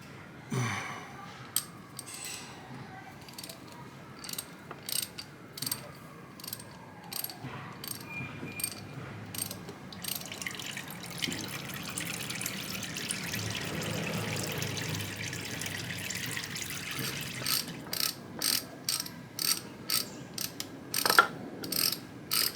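A 12mm socket ratchet loosens the oil filter on a Yamaha XS750 motorcycle, with repeated bursts of quick clicking at close range, separated by pauses and quieter handling noise.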